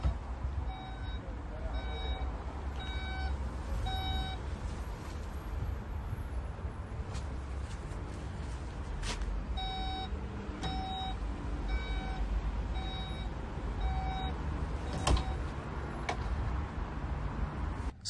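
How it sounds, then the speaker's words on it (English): Skoda Superb 1.5 TSI SportLine Plus estate with its electric tailgate operating, marked by evenly spaced warning beeps in short groups over a low steady hum, fairly quiet and close. "Now this vehicle also comes with an electric tailgate."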